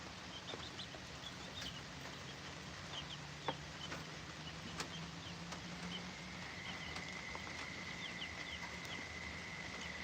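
Chickens cluck in a yard on a rainy day, faint and scattered over a steady hiss of rain. A few short clucks and calls come from a little distance, and there is no talk.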